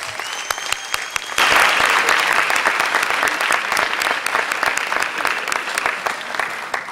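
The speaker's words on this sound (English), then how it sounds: "another round of applause for these young academians" An audience at an evening school board meeting bursts into sustained applause, dense clapping that swells suddenly and holds steady, loud and close, with a few voices mixed in.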